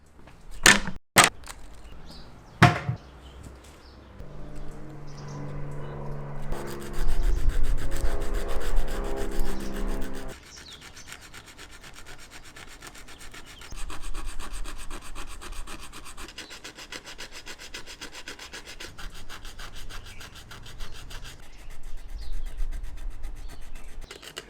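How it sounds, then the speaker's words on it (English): Wood on a reed organ under restoration is sanded by hand in close, steady rubbing strokes, rasping and scratchy, with a few sharp knocks at the start and pauses between passes, no talking. "let me just jump into some sanding and get this done as quick as possible"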